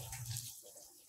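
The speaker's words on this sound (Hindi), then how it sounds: "तो फ्रेंड ये मैंने इसमें पानी भर रही हूँ।" Water poured into a bottle to grow indoor plants such as money plant, a steady close splashing and gurgling stream that thins out toward the end, with no voices.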